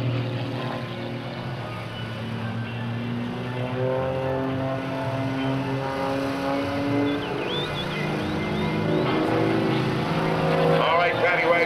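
A propeller aerobatic plane flown by Patty Wagstaff performs tumbling manoeuvres at the 2002 NAS Oceana airshow, with a steady droning engine that rises and falls in pitch under continuous announcer commentary.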